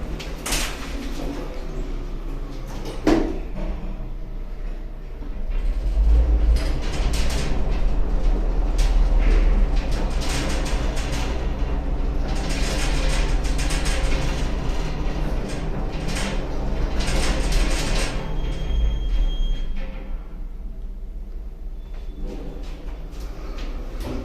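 One of six Otis lifts hums and rumbles steadily as it travels deep into the rock of Monaco to an underground train station, with a few clunks and doors sliding near the start and end.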